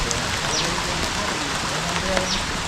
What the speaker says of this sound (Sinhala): වැස්ස පටන් ගත්තා.